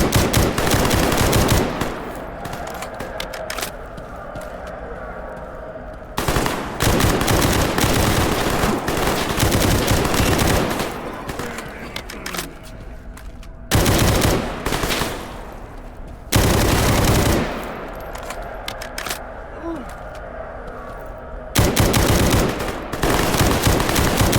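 Long loud bursts of automatic 5.56 rifle fire in the shooter Stalker Gamma rip out in sustained volleys, separated by short quieter gaps.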